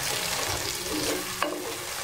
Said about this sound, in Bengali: এখন সব উপাদানগুলোকে আমি 3 থেকে 4 মিনিট খুব ভালো করে কষিয়ে নিব